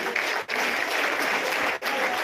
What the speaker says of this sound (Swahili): pigia askofu makofi jamani.